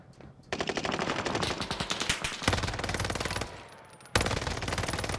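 Rapid automatic gunfire in the Warzone video game, loud sustained bursts of shots rattling close by, with a brief pause before another burst resumes.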